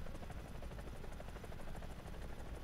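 A Lynx helicopter in the video game War Thunder flies fast, its rotor and engine making a steady, even chopping drone throughout.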